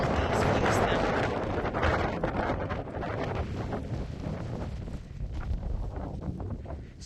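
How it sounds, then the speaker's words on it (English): Strong wind buffets the microphone on a mountain top during a solo hike in Norway's Trollheimen National Park, a loud continuous roar with gusting rumble, while someone talks over it throughout. "As you can probably hear, it's extremely windy now."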